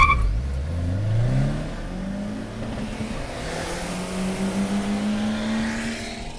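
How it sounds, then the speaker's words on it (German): A loud, modified car accelerates hard through a narrow street, its engine note climbing steadily over several seconds with a rising, echoing roar and no talk. "die dann auch ordentlich Krach machen und ihre Autos lauter gemacht haben, dann damit durch enge Straßen fahren, wo es ordentlich hallt"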